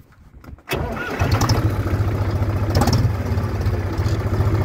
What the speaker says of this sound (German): Mach den Trecker mal an.